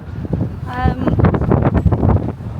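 Gusty wind buffets the microphone on a sunny, windy day in Riga, a continuous low rumble running beneath someone speaking throughout.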